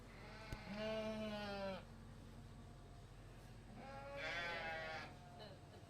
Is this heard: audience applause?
no